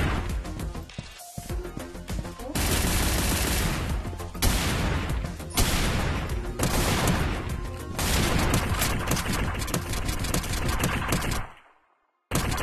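Automatic gunfire in the VR shooter game Strike Rush on Meta Quest 3, loud sustained bursts of rapid shots with brief gaps between strings of fire, ending in a sudden drop to near silence.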